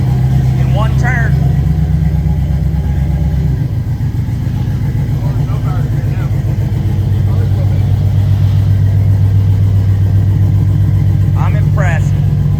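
An LS-swapped Volvo car engine runs loud and close, a deep idling drone that steps up in pitch partway through as it revs, while people talk over it.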